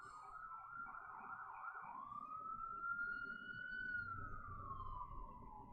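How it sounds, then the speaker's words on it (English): A distant ambulance siren drifts past in one long rising and falling wail, faint over a low rumble of traffic. "So please excuse the sirens in the background"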